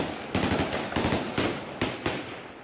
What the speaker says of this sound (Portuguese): E o Talibã respondeu com tiros.